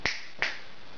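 Two sharp hand claps about a third of a second apart, close and distinct, made to set off a homemade Arduino clapper switch in a quiet room.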